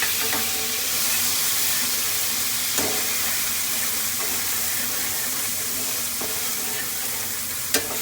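White wine poured into a hot pan to deglaze it, a loud steady hiss and sizzle with a few faint scrapes and clinks of a utensil.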